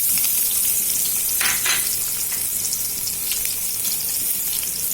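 Chopped onion hitting leftover oil in a pan while cooking an egg curry, a steady broadband sizzle with a brief louder burst around the middle as the onion goes in, close and continuous with no talk.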